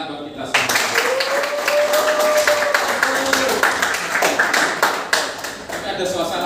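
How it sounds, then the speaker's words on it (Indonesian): A class group claps together in steady, overlapping bursts, fairly loud and close, with a voice and a brief whistle-like tone rising over the clapping. "tepuk tangan buat kita semua"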